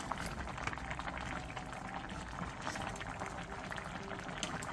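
Braised cutlassfish and radish simmering under a lid on medium-low heat, a soft, constant bubbling and sizzling hiss with small pops, quiet and close.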